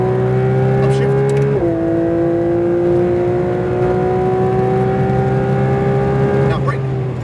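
Loud, continuous engine drone inside a Porsche 992 GT3 RS on a track; the pitch drops abruptly as a gear shifts up, then climbs steadily before another shift near the end.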